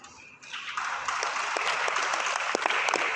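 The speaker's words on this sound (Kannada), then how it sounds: "ಮೊನ್ನೆ ಹೇಳಿದ ನಿಮಗೆ ಚಪ್ಪಾಳೆ ಬಿಡಬಾರ್ದು ಅಂತ." A crowd at a religious ceremony at a math in Bhutaramanahatti, Belagavi bursts into applause after a brief quieter moment, then sustains dense, steady clapping with scattered sharper claps until the end.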